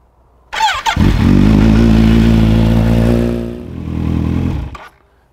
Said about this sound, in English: the first thing we're going to do is bring the bike up to temperature